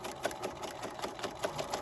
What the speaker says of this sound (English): I'm going to sew completely over the strap at a 1/4 inch seam allowance as best I can